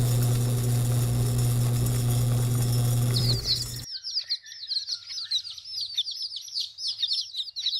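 Newly hatched chicks in a hatchery peep in a steady run of high, rapid chirps that overlap one another, coming in abruptly after a loud mechanical hum cuts off.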